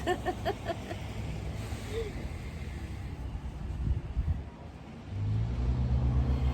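A big truck rumbles past nearby, its low engine drone rising and swelling, then fading before a heavier rumble returns at the end.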